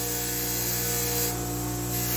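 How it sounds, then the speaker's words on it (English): A wire wheel scrubs rust from a metal part before zinc plating. A loud, steady motor whine with a constant harsh scratching hiss runs close by for the whole stretch, and no one speaks. "when you wire wheel it, you can get a shine. But that's not so much as the importance here. We're trying to get the rust."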